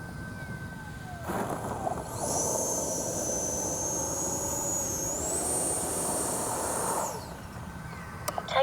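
FlyFans L-39 radio-controlled model jet with a black diamond scheme, its turbine whining up to a steady high-pitched roar for several seconds, pitch sliding slightly, then spooling down, over a soft outdoor hiss.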